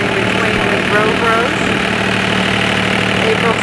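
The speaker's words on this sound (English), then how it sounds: "on the tractor, planting pumpkins and fertilizing between the row rows" A steady tractor engine rumble runs throughout while planting pumpkins and fertilizing between rows, droning and unchanging, heard close and loud with no talking.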